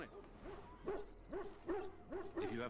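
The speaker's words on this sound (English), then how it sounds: "I don't want to hear this dog bark anymore." A dog in Dragon Age: Origins barks repeatedly in a quick rhythmic series, about five close, loud woofs evenly spaced under a faint game backdrop.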